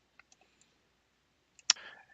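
A computer mouse click lands sharply near the end, followed by a short burst of faint rattling, with a few tiny ticks scattered earlier in an otherwise quiet room.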